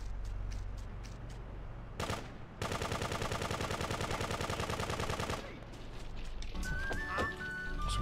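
Gunfire from the PC game Grand Theft Auto 2 crackles in sharp single shots, then erupts into a long rapid automatic burst, followed by scattered further shots.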